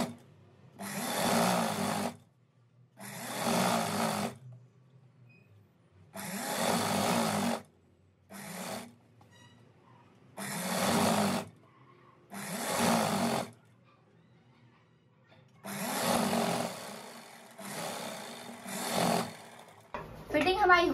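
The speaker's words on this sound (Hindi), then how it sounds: "यहाँ पर नीचे वाली क्रॉच एरिया की सिलाई लगाना है" Sewing machine stitching the crotch seam of a dress, running in about eight steady whirring bursts of one to two seconds each, separated by short quiet pauses, close and clear.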